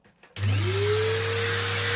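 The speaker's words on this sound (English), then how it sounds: "if you've never seen anybody sand, this will be an education" An electric sander hooked to a dust extractor starts up in a small garage, sanding to 120 grit. It spins up with a rising whine over a loud, steady suction roar, close by.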